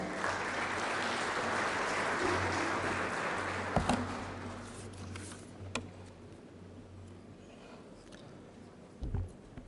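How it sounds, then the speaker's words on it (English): An audience at a business forum in the National Parliament in Sarajevo gives sustained indoor applause that fades away over several seconds, leaving a quiet room with a few scattered taps and clicks. "Please give a warm applause."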